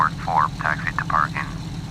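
A Douglas aircraft taxiing to general aviation parking in a flight simulator, its engine a steady low drone under a radio voice talking throughout.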